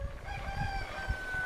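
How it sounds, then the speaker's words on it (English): A rooster crows on a farm in a single drawn-out call, faint and somewhat distant, over low rumbling background noise, with no talk. "Come on, rooster, crow."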